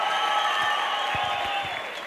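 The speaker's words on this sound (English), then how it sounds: "Come on, give him a round of applause." Audience at a youth empowerment week event in the Vaal breaks into dense, steady applause with cheering and whoops, loud and sustained throughout, swelling slightly again at the end.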